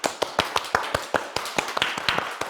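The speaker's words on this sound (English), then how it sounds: "Please give a big round of applause to our speakers, Edwin, Walden, Kayla," A small audience claps for the speakers at an MBA forum on sustainable fashion. The claps are sparse and distinct, coming from a few hands at close range, with no talking.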